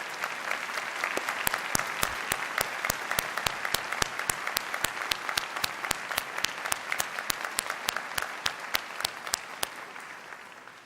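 Sustained audience applause at an NYU spring graduation ceremony, a dense steady patter of many hands clapping with sharp individual claps standing out, evenly loud throughout with no talking.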